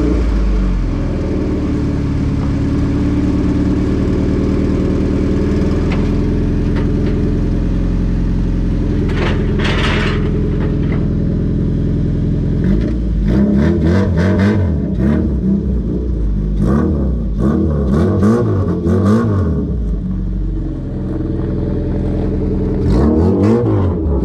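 A B16A2-swapped Honda Civic coupe with Jackspania Racing headers running open header drones loudly on a dyno, holding a steady tone before a series of sharp revs and throttle blips build and drop.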